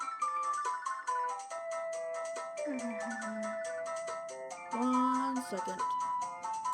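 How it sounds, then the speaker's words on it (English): Melodic phone ringtone for an incoming call plays loudly and steadily, its repeating electronic tune heard over background music from the game Core Keeper, with a brief bit of speech. "I got a phone call."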